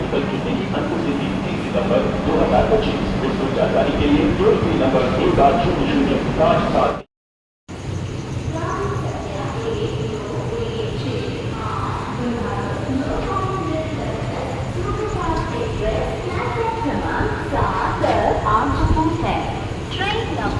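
A busy, poorly maintained railway station in Madhya Pradesh, with code ET, where the Narmada Express passes through: a constant low rumble of trains and a murmur of crowds run beneath nearly continuous talking, broken by a brief silent gap.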